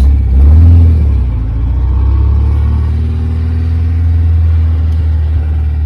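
Original four-cylinder engine of an Austin Healey, fitted with special pistons and rated at 160 brake horsepower, runs loud and close, with a rev rise early on before settling into a steady, throbbing idle.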